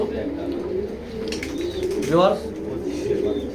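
Soft pigeon coos rise and fall close by, with faint chirps and background murmur; a voice is briefly heard among them.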